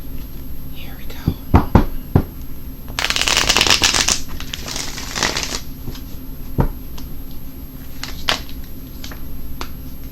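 Tarot cards are shuffled by hand for a 10-card spread: a few light taps and snaps, then a dense riffling burst in the middle, followed by softer shuffles and clicks, with quiet whispered speech around them.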